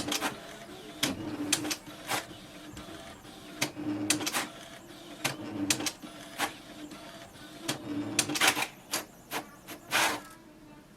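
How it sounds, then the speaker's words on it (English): A Brother MFC-J497DW inkjet printer prints a test page, with irregular mechanical clicks and clacks, whirring print-head passes and paper-feed noises, all close and moderately loud. "click on print a test page and wait for the printer to work"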